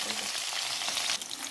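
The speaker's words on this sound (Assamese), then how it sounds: "এয়া এইখিনি অকণমান ৰঙচুৱা হ'লেকৈ মই ভাজি থাকিম।" Onions fry and sizzle in hot oil in a kadai with bay leaf, cumin, dried red chilli, cloves and cinnamon, a loud continuous crackle with a brief stir-like shift near the end and no voices.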